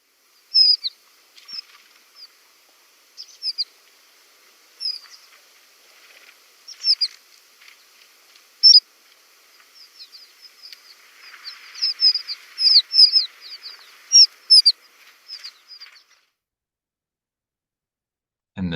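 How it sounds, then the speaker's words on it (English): Horned lark flight calls: thin, high chirps and short tinkling notes come in scattered bursts, sometimes several together, over near-silence. "So horned lark flight calls,"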